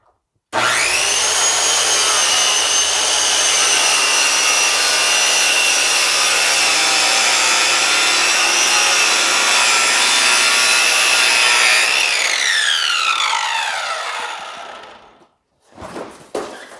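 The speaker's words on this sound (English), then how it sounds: "if you're wondering how I'm cutting it, kind of like a cement blade. Something that's just like a grinder" A grinder fitted with a cement blade cuts through garage door insulation panel, a loud continuous high whine and rasp that runs steadily for about eleven seconds, then the pitch falls as the tool spins down, with a brief rustle after.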